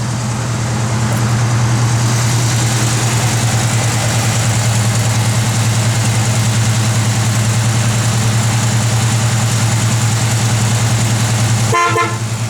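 A 1966 Ford Mustang engine with a mild cam idles loudly and steadily up close, a continuous low rumble with a slightly lumpy pulse, cutting off abruptly near the end.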